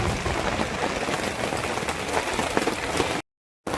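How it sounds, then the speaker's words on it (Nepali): Hailstones falling in a forest in Nepal, a dense close pattering and rattling on surfaces that stays loud and steady before a brief gap of silence near the end. "अब असिना खस्नु थालेको छ है यहाँ"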